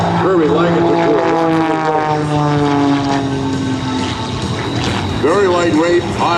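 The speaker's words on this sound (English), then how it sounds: "This is a custom modified Zipco Edge 540, one seat under class aircraft designed for aerobatics, but Kirby likens it to" A custom-modified Zivko Edge 540 single-seat aerobatic propeller plane with a Lycoming 540 cubic-inch engine performs at an air show. It makes a loud, buzzing harmonic drone that rises and falls in pitch as it maneuvers, with a voice talking over it.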